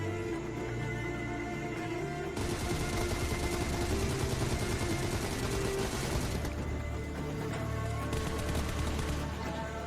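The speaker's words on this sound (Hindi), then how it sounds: "पहले तो मैंने उसको M7 से थोड़ा डैमेज दिया, बट जब रिलोड पे आ गई तो मेरे को गन स्विच कर लिया" Rapid bursts of M7 and M4 gunfire ring out in a multiplayer lobby rush in a video game, dense overlapping shots with a louder stretch in the middle, heard without speech.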